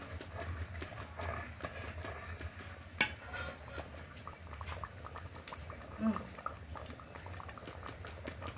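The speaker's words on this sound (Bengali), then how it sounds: "এবার নেড়ে চেড়ে নেবো আবারও একটুখানি।" Curry stirred in a pot after ground cinnamon and cardamom go in, with soft repeated scrapes and a low simmering bubble under faint background noise, one sharper clack partway through and no clear speech.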